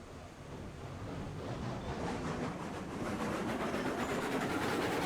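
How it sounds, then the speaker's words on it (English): A train engine running on rails in a video game, a steady loud rumble with rhythmic clatter that builds slightly over the span, heard alone without talk. "Oh, it sounds like it's ripping its engines out."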